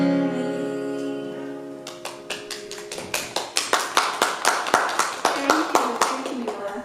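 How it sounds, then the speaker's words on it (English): A held musical chord fades out, then scattered claps build into steady, rhythmic applause from a small audience. "Let's give her another round of applause."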